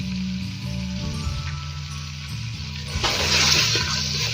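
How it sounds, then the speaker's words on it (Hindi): Whole coriander, turmeric and cumin frying with beef in a karahi give off a steady, close sizzle that swells slightly louder near the end, with a low droning hum underneath. "इन सारे मसालों को तकरीबन हम 1 मिनट के लिए फ्राई कर लेते हैं, गोश्त के साथ रोस्ट कर लेते हैं"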